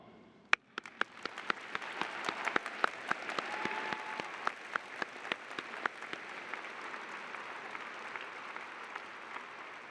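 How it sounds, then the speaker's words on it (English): A high school graduation audience, on its feet, breaks into applause with a few sharp nearby claps over a broad, sustained wash of clapping that carries on evenly for about ten seconds. "please get a big round of applause?"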